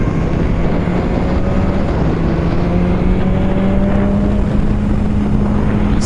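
Steady engine and wind drone from a BMW S1000 R motorcycle cruising along the road, with a gradually rising tone and constant loud rumble, no voices.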